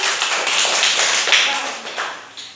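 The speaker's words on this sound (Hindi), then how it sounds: "बहुत अच्छे, ताली बजा दीजिए।" Schoolchildren in a government school classroom clap together in a dense, steady burst, loud and close throughout, with a brief voice mixed in.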